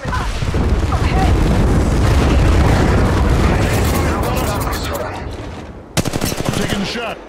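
Rapid automatic gunfire and booming shots from an Apex Legends firefight, loud and dense throughout, thinning near the end before a sharp renewed burst of shots; game voice callouts mix in underneath.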